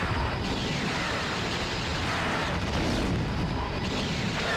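Photon missile explosion in Lego Star Wars 2 blowing up a rock, a dense, sustained roar of broadband rumble filling the whole stretch at steady loudness, with no talking.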